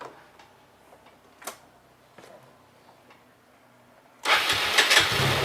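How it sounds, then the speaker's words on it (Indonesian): After a few quiet clicks and ticks, a Yamaha Nouvo Gen 1 scooter's engine catches near the end and settles into a loud, close idle. "mending kita coba tes mesinnya ya. Suaranya kayak gimana?"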